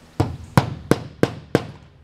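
A hammer strikes five times on a roof during a home repair, the blows sharp, loud and evenly spaced about a third of a second apart, with quiet between each hit.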